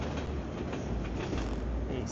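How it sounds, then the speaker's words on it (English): A southbound train rolls past in Toronto with a loud, dense, continuous rumble of rail wheels and faint rhythmic clatter, heard close throughout. "the southbound train."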